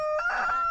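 Backyard chickens crow and cluck up close, a single loud rooster crow with harsh harmonic tones heard alone in a short burst.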